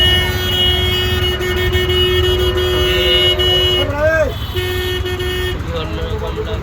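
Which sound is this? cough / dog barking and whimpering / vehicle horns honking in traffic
vehicle horns honking in traffic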